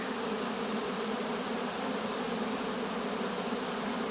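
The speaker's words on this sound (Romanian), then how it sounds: "Foarte multă albină." Dense, steady buzzing of many honeybees swarming close by at a hive entrance, a continuous bright hum without pauses or voices.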